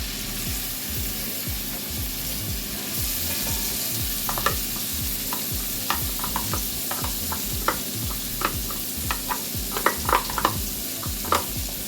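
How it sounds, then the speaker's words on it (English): Onions fry in salted butter in a pan for smoky bacon mac and cheese, a close steady sizzle with repeated rhythmic scraping of the stirring utensil and occasional clicks, no voices. "And then I'm going to add my onions."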